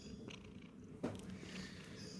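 A pet cat with a terminal illness purring steadily up close, a soft continuous rumble with a brief bump partway through.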